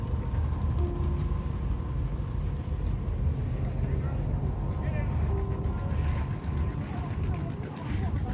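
Steady boat engine and water rush on a misty lake, a continuous loud drone with wind buffeting the microphone throughout, as another boat circles nearby.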